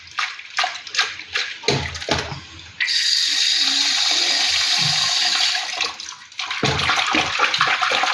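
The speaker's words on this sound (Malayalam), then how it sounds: "കണ്ടോ, കഴുകുന്നതനുസരിച്ച് അഴിച്ചിളകിക്കൊണ്ടിരിക്കുകയാണ്." Anchovies being washed by hand in water in a kitchen, with running water splashing steadily and a louder continuous pour in the middle stretch, close and without talk.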